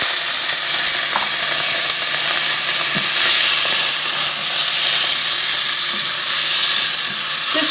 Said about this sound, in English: I'm going to put a little bit of oil in the pan, which is nice and toasty, and I'm going to add the beans to warm them